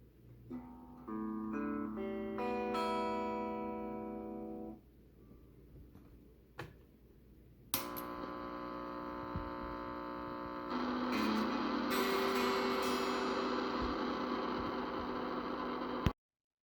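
An electric guitar strummed through a distortion circuit, a few ringing chords with pauses, then a longer sustained distorted chord; a low mains hum runs underneath.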